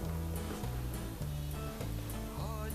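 A semi-hollow electric guitar fitted with a Bigsby tremolo plays a steady series of sustained, wavering chords. The chords sit under a dense hiss of noise.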